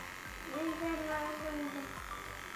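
A cheap electric wet-dry shaver buzzing in short pulses at close range, its hum rising and falling while a voice talks softly over it.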